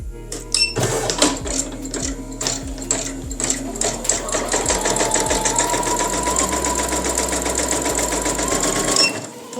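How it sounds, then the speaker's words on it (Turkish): A Moonstar ES5 home electronic sewing and embroidery machine stitches a pattern: a few spaced mechanical clacks, then a fast, steady, close rattling run of needle strokes that stops abruptly at the end. "Bu düğmeye bastığınız vakit nakışınız işlenmeye başlayacaktır."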